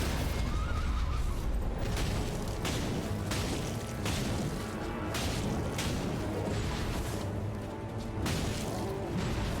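A boss's horse in Elden Ring whinnies loudly amid game combat, with sharp whooshes and impacts breaking through a dense, continuous battle soundscape.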